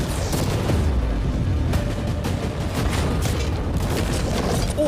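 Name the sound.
cannons firing at a yacht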